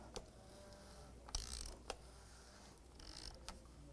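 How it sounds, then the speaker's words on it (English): A ratchet tightening the oil filter housing cap on a 2001–2007 Volvo V70 produces a few faint creaking clicks and short mechanical bursts in a quiet setting with no speech. "I just got my ratchet, and I'm just going to bottom it out"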